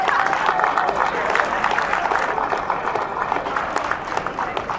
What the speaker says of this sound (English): I want you to give a big round of applause